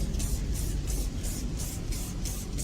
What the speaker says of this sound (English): You simply spray the wheel with the product.